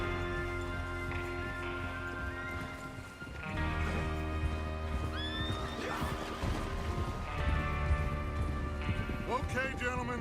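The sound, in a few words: horses neighing and hooves in video game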